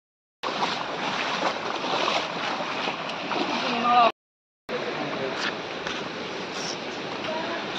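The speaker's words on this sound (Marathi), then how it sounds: "तर हा आहे मिनी वॉटरफॉल" Small mini waterfall in a forest stream near Kondi, a steady broadband rush of falling water heard close, with a brief cut in the middle and no talk.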